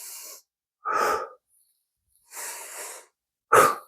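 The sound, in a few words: breathing during a side stretch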